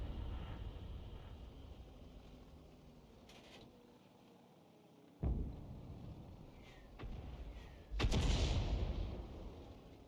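Artillery shells strike tanks in World of Tanks, heard as two sharp impact booms, one midway and a louder, longer one near the end, over a faint rumbling battlefield background without talk.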